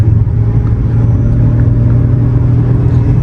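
A Tata Punch CNG AMT car at full throttle gives a loud, steady low engine drone from inside the cabin, with a constant rumble and no voices.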